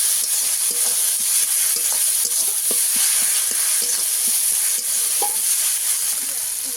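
Spices for a kuche (eel) fish curry fry steadily in a pan, giving a continuous close sizzle broken by repeated sharp scrapes and taps of a spatula stirring the masala.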